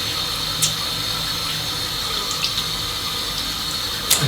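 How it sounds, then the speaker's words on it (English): Cold water runs steadily from a tap into a sink, a continuous hissing splash with a few small clicks, close and fairly loud. "the water's coming out of the tap nice and cold"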